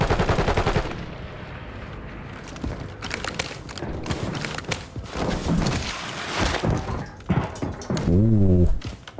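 Loud, close automatic gunfire in the video game Warzone, with rapid bursts and single shots crowding the whole stretch, then a sweeping mechanical whine near the end.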